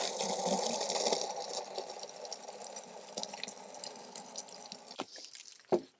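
Water draining and trickling out of a depressurised water pump on a Portugal farm as it is emptied, a steady gurgling wash that fades out, with a few sharp clicks near the end.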